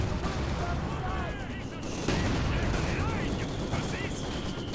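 Machine gun fire and battle explosions from the Company of Heroes 2 strategy game rattle densely and continuously, with bursts and booms layered over one another and voices talking underneath.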